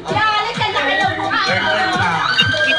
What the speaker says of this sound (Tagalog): Sino ba yung tatlong kasama niyo doon na sigaw ng sigaw?